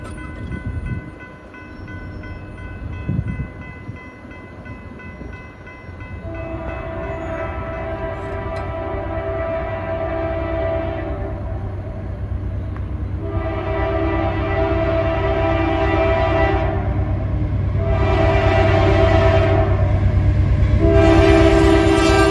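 A long freight train rolls past, led by extremely loud diesel locomotives that give several sustained, chord-like horn blasts over the steady rumble and clatter of the passing cars, loud and close throughout.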